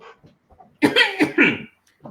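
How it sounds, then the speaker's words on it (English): A single short muffled cough up close, a brief burst of two or three rough pulses, surrounded by near silence and faint breathing. "glad I had a cough there"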